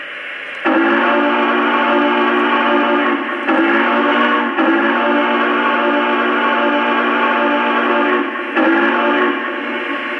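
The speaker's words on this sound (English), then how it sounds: "So here's the whistle." A loud, steady steam whistle sound effect from a LionMaster LC2 Big Boy model train blows in several long blasts with brief breaks between them, close and harsh, with nothing else heard.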